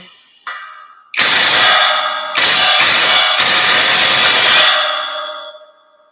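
A loud half-inch impact wrench bursts on in several long, harsh whirring blasts with short gaps between, preceded by a brief click and winding down at the end.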